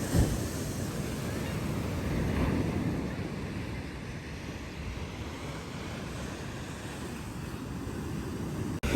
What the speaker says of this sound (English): Waves are really crisp today.